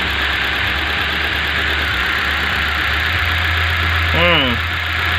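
Idling Hyundai i20 engine with a misfire on cylinder 2, a steady close rumble and hum throughout, with a brief rising chirp-like sound near the end.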